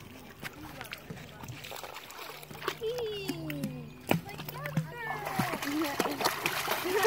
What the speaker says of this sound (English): she just jumped off that ledge right into the water.